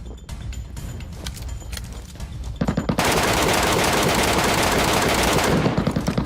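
Sustained automatic gunfire in PUBG's Metro mode, sparse shots at first, then a dense, loud, continuous barrage of rapid bursts that fills the scene to the end.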